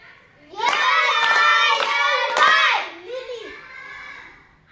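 Schoolchildren clap in a loud rhythmic burst of about five sharp claps together during a classroom activity, mixed with their chanting voices, then a quieter voice trails off.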